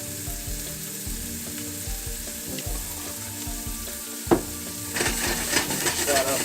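Ham, onions and potatoes seasoned with black pepper and cayenne are stirred in a frying pan, a continuous sizzle with periodic utensil scrapes, growing louder and busier toward the end.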